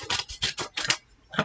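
Scissors snip through a clear plastic acetate sheet from an Advent calendar craft kit, four quick crisp cuts in a steady rhythm, then a short pause and one final snip, close and fairly loud.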